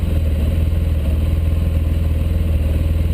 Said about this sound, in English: as I rev this up, we'll jump into our mode